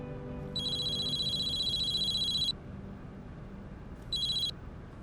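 A telephone rings on an outgoing call: an electronic trilling ring lasting about two seconds, a pause, then the start of a second ring, fairly close over a faint background hum, no talk.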